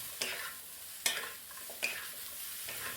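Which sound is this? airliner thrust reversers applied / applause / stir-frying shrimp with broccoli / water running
stir-frying shrimp with broccoli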